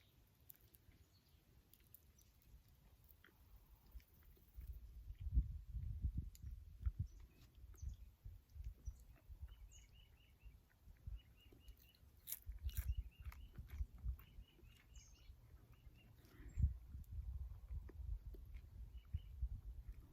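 Close, crunchy chewing of slightly burnt fried grasshoppers comes in irregular bursts with short pauses between mouthfuls, and faint bird chirps sound in the background.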